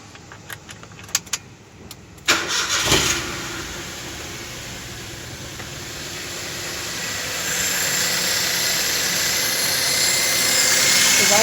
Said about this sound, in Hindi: तो गाइज अभी मैं स्टार्ट करूंगा गाड़ी।